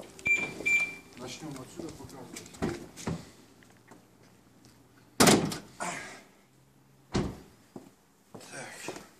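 A BMW car door opening, with a sharp loud mechanical clunk midway, further door thuds and handling noises, and someone talking in between.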